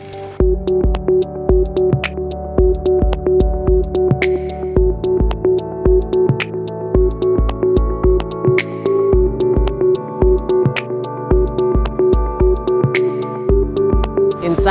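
Electronic music with a steady pulsing beat, punchy bass hits and sustained synth tones repeating throughout, loud and continuous without any voices.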